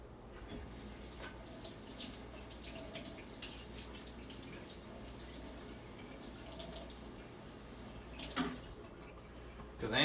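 Tap water runs steadily into a sink while an item of mead-brewing gear is rinsed off, a continuous close hiss and splash with a brief louder clatter near the end.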